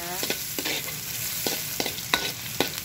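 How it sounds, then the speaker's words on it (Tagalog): Ginger sautés in a pan for batsoy, with a constant sizzle broken by sharp scraping strokes of stirring every half second or so. "Medyo papupulahin natin yung luya"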